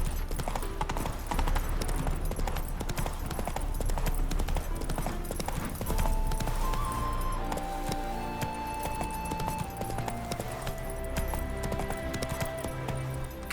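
Horse hooves clip-clopping at a steady riding pace in the video game Witcher 3, continuous and close, with game music and ambient sounds mixed underneath.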